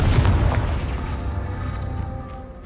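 Confringo fire spell exploding in Hogwarts Legacy: a heavy booming blast at the start that rumbles and slowly decays over a couple of seconds.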